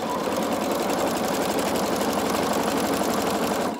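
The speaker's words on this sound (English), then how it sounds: "As you're sewing, you should always use one hand to kind of guide the fabric and the other hand to hold it as it goes." A sewing machine stitches fabric in a steady, close, fast whirring hum that runs without pause for a few seconds, with no talking.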